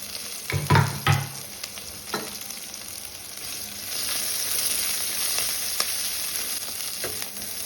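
Garlic and green chillies frying in a pan: a bright, steady sizzle with a few sharp scraping stir strokes early on, then a louder, even hiss through the rest, with no talking.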